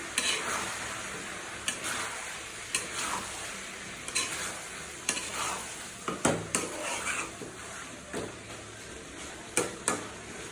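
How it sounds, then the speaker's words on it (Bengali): Beef being stirred as it fries in a pan, a spoon scraping the metal in repeated strokes over a steady background sizzle, close and fairly quiet, with no talking. "মাংসটা সুন্দর করে নাড়িয়ে দিলাম।"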